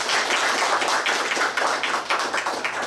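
An audience claps together in a hall, a dense, steady patter of many hands that holds at an even level for a few seconds with no voices on top.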